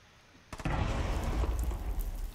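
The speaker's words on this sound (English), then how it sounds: "Hibana just blew something." Hibana's breaching charges go off in Rainbow Six Siege, a sudden burst after a quiet moment followed by a sustained rumbling, crackling spray of debris, moderately loud.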